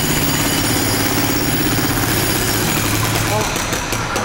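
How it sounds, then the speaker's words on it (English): Jackhammer pounding through obsidian in Minecraft, a dense continuous mechanical rattle that stays loud and steady throughout, with game sounds layered underneath. "We are moving into the biggest weapon in our arsenal, which is the jackhammer."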